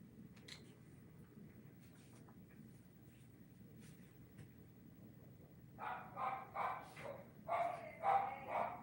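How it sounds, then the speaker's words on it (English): Dogs bark downstairs in a home, faint and muffled at first, then a run of several louder barks near the end, heard at a distance through the floor. "Dogs barking downstairs."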